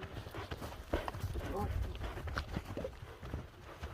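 The hooves of Tel Toru, a racing horse in Nookat, clip-clop in a loose, uneven rhythm at moderate distance, heard under steady conversation among several men.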